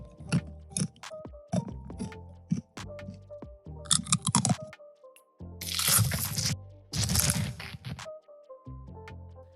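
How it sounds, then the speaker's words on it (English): Crunchy bites into a sandwich, several sharp crisp crunches with brief chewing squishes between them, close and fairly loud, no talking. "I'll add an eating sound effect"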